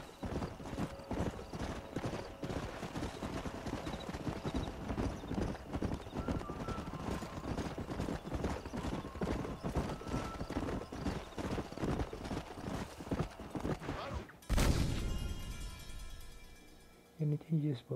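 Horses in the Red Dead Redemption video game gallop with steady, rapid hoofbeats and occasional whinnies, loud and close throughout under game dialogue and music, with a sudden burst near the end.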